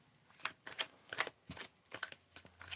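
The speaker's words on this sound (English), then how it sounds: "I'm going to ask you to tell me when to stop shuffling" Tarot cards being shuffled by hand, a quick series of papery riffles and slaps repeating in an uneven rhythm, close and fairly quiet with no talking.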